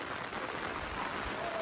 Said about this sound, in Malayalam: ഇന്ന് വ്യൂ കിട്ടൂല, ഫുള്ള് മഴയാണ്.